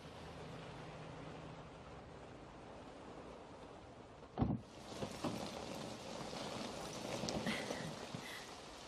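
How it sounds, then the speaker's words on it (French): Faint, steady rain hisses throughout, broken by a soft thump midway, after which the patter sounds a little fuller. "Qu'est-ce qu'il pleut?"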